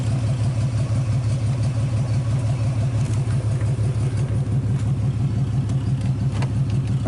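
A 1948 Nash engine runs steadily at idle, a low rhythmic rumbling putter close up and continuous with no talk.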